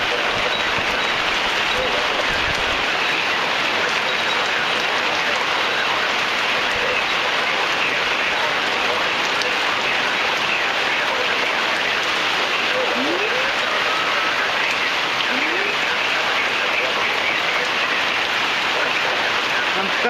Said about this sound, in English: The rain is blowing right at me now.